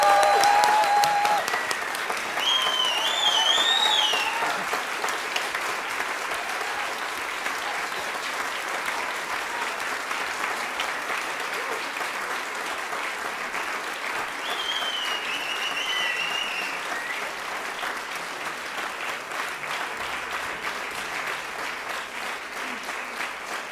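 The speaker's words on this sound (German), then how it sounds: "Nochmal Applaus für alle Bands." Festival audience applauding all the bands at the Creole NRW 2015 global music event, a loud sustained wash of clapping from a large crowd that gradually eases, with faint voices inside it.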